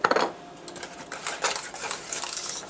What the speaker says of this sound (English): I'm going to go ahead and whisk it all together.